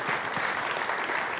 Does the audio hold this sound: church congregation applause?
yes